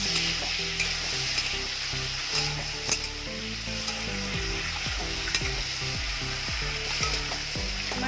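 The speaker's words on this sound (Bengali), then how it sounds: "মাছের মাথাগুলো ভাজা হয়ে গেছে" Hilsa fish heads frying in a pan with green chillies, a loud continuous sizzle and crackle close by, with repeated stirring scrapes and no talking.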